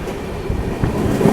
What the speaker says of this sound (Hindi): यहाँ पर हमारी क्रॉसिंग हो रही है अभी अहमदाबाद हावड़ा एक्सप्रेस के साथ।